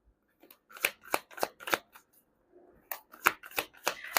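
Tarot cards shuffled by hand in a series of quick riffling bursts, each a crisp papery flutter, with a short pause midway before the shuffling resumes; close and fairly quiet.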